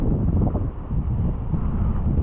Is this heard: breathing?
no